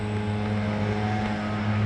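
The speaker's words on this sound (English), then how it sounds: "The man's getting closer to me with his lawnmower." A lawnmower engine drones steadily nearby in the formal gardens of a palace at a Dutch-themed park in Japan, a continuous loud, even hum with no pauses and no speech.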